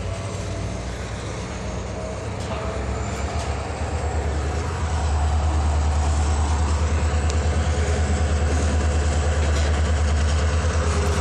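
Canadian National locomotive 9617 rumbles steadily as it runs backwards in Effingham, Illinois, its deep diesel drone loud and continuous with a low throb that swells slightly partway through.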